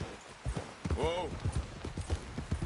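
Rhythmic horse hoof clip-clops in the video game Red Dead Redemption 2 under talk, with a horse whinny rising briefly partway through.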